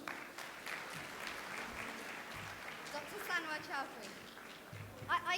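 A crowd at a publication launch and awards event claps steadily throughout, with voices talking over the applause near the end.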